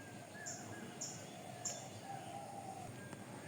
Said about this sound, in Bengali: চারিদিকে কত সুন্দর পাখির ডাক